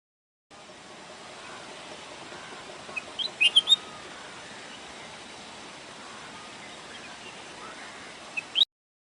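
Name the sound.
bulbul bird song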